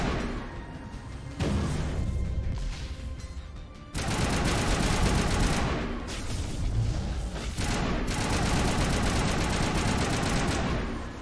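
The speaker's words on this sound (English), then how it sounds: "All I gotta do is shoot and then hide, shoot and then hide." Rapid automatic gunfire and explosive blasts from the Mass Effect Legendary Edition game, loud dense bursts that cut out briefly and resume in sustained volleys, with no voices over them.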